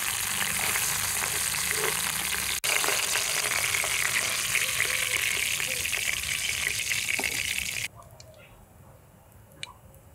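Chandana hilsa fish pieces frying in oil for a mustard jhal, a loud dense crackling sizzle that runs steadily for several seconds before dropping abruptly to quiet with a few faint pops.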